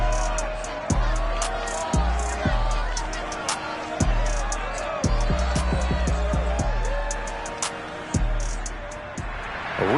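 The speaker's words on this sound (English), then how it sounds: "This crowd, as we've come to expect in recent years, as loud as any in the NFL, and they get even louder when their Seahawks are introduced." Stadium crowd at Lumen Field in Seattle, cheering for the Seahawks in the Madden NFL 22 football game, roars loud and steady, with heavy thumping music beats and swells running through it.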